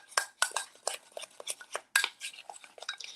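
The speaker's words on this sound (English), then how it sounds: "we're just going to stir until it looks like a little bit of a batter" A utensil scrapes and clinks rhythmically against a bowl while milk is stirred into a batter, each stroke close and fairly quiet, with no talking.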